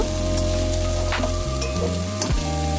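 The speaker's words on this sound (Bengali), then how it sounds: "ফুলকপিগুলো লাল লাল করে ভাজা হয়ে গেছে" Cauliflower pieces fry in hot oil, giving a dense, continuous sizzle with small pops and a few utensil scrapes, close and steady throughout.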